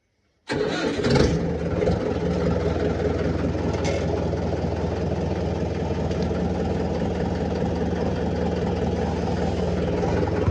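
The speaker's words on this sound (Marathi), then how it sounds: "ट्रॅक्टर घेऊन." A tractor engine fires up abruptly after a moment of silence on a farm field, then keeps running at a steady, rumbling idle.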